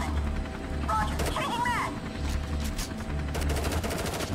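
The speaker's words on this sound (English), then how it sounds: "the kill team is actually firing at me" Kill team gunfire in Strain Tactics: repeated bursts of automatic fire crackle throughout, mixed with a whooshing rotor-like rumble and a voice talking over the shooting.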